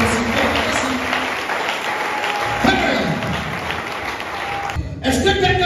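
Church congregation clapping at a Sunday service, a dense steady wash of applause sustained throughout with a brief dip near the end, loud and close.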